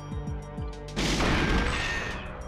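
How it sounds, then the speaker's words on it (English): Gunfire on a wooden crate in GoldenEye 007, a few quick shots followed by a loud bursting explosion that rumbles and fades over a couple of seconds. "If you keep shooting it, it'll explode into a smaller crate"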